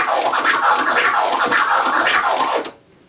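DJ turntable scratching in a four-click orbit variation, a dense, continuous run of back-and-forth record scrapes with closely spaced clicks, loud and alone, cutting off abruptly near the end.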